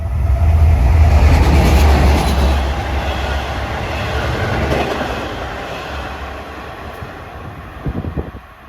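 A Long Island Rail Road train bound for Hempstead rolls past on triple track, a loud rumbling passage with clattering wheels that fades gradually, ending in a few sharp clicks.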